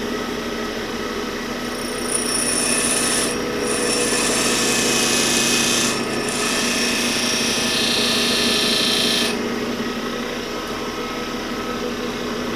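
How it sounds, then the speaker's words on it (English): A bench grinder's fine wheel grinds the clearance on a lathe tool bit, a loud continuous whirring hum that brightens into harsher grinding bursts whenever the steel bit is pressed to the wheel. "Now, I got to switch it to this side so that I grind the clearance on this side of the tool bit."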